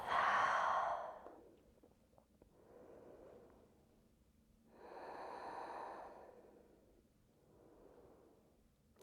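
Slow, full breaths taken while lying in a yoga pose, with a loud opening exhale followed by a few softer, long inhales and exhales spaced evenly and close up.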